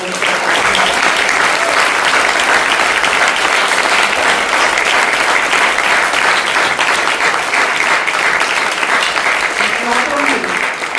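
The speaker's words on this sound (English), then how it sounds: "can we put together a big round of applause for our director?" An audience at a stage drama breaks into sustained, loud applause for the director, dense clapping holding steady throughout with faint cheering mixed in.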